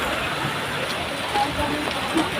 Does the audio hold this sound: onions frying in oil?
no